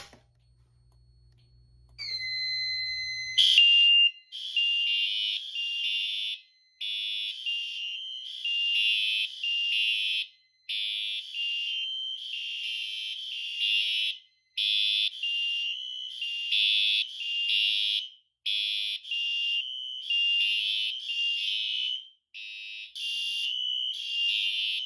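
A Notifier SFP-10UD fire alarm system sounds after a pull station is activated, with a brief tone followed by loud repeating high-pitched alarm pulses in a steady on-off rhythm, alone without talk.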